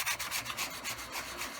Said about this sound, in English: got a sanding block with 120, and we're just going to sand along the grain here